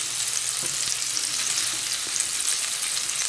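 Meatballs browning in a frying pan, a dense, even hiss of sizzling fat running continuously at close range, with a couple of faint low knocks beneath and no talking.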